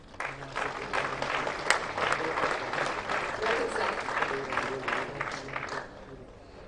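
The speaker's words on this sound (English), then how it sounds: "Please join me in welcoming him with a huge round of applause." Audience at an inaugural ceremony of a software and electronics expo claps steadily for several seconds, moderately loud and then tapering off, while someone briefly speaks a welcome.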